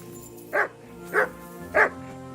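A dog named Mutt in Kingdom Come Deliverance 2 gives three evenly spaced barks while tracking a scent, each short and fairly close, over a steady low hum.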